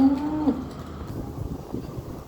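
Cattle on a Thai farm moo once in a low, drawn-out call lasting about half a second, then the lowing fades into rustling and shuffling from the herd as the animals are driven along.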